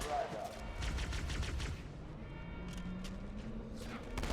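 Rapid bursts of SMG fire in Halo 2 on Cairo Station, played on Legendary difficulty. Dense automatic volleys come in the first half, then thinner scattered shots and thuds follow.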